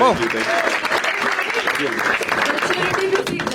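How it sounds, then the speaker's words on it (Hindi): A stand-up comedy show crowd claps loudly and steadily for a performer, while voices and laughter-like shouts mix in over the applause. "बट एक बार बसीर के लिए ताली बजाओ सब लोग"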